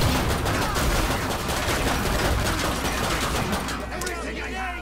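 Grenades and gunfire erupt in the video game Killing Floor 2 as a loud, nonstop barrage of rapid shots and blasts, dense throughout before easing slightly at the end.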